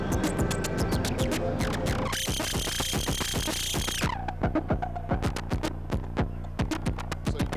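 Animal Factory Tannhauser Gates quad VCA modulating a filter cutoff, producing rapid rhythmic synthesized pulses with a harsh noisy burst in the middle before the clicking pulse pattern resumes, alone and fairly quiet.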